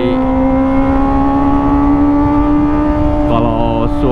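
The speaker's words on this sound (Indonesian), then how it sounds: "Suaranya emang bacot banget guys ini knalpot" Sustained high revving from a Kawasaki ZX25R motorcycle with an Arrow Pro Race exhaust, loud and up close, holding a steady whining pitch before a quick throttle change near the end.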